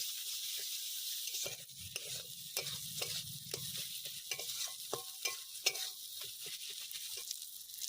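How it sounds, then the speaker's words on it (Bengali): Steady sizzling of a spice paste of salt, turmeric and Kashmiri chilli powder frying in hot oil, with repeated scraping and stirring strokes from a spoon against the pan throughout. "ভালো করে মশলাটা কষিয়ে নেব"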